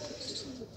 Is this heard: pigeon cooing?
yes